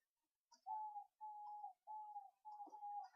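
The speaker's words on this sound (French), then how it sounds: "En tout cas, j'entends toujours l'oiseau chanter" A bird sings a series of four clear, sustained whistled phrases near mid pitch, each about half a second long with short pauses between, fairly close and alone with no talk.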